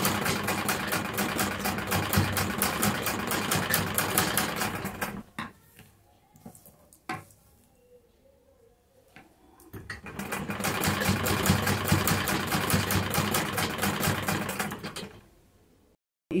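A sewing machine stitches along the edge of waste-fabric socks in a fast, loud mechanical whir, stops for a few seconds with some handling clicks, then runs again before stopping.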